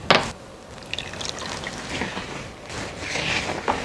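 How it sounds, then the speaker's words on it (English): Wet ingredients being poured into a bowl of well-mixed dry muffin mix, a soft, close liquid splash and trickle lasting a few seconds, with faint clinks at the start and end. "Then just pour in my wet ingredients."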